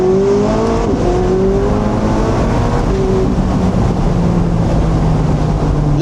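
McLaren 675LT Spider convertible supercar engine pulled to full throttle: a loud, continuous, close engine roar with rising harmonic tones through the run, steady and dense from start to finish, with no talk over it.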